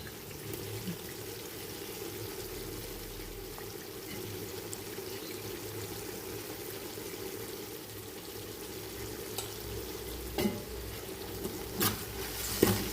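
Onions and mint frying in a pan for chicken biryani, a steady close sizzle throughout with a few faint clinks toward the end.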